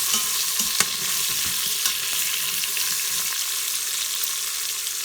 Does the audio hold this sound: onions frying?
yes